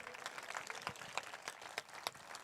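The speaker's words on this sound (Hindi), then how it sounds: "आपको मालूम है आप अभी ताली बजा रहे हैं" A church congregation claps during a sermon, a moderately loud patter of many hands with several sharper, more distinct claps standing out, with no speech.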